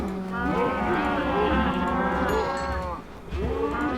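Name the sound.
cows mooing in the Minecraft video game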